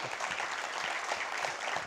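Audience applause for students at a university industry conference, a dense steady wash of clapping sustained evenly throughout without pause.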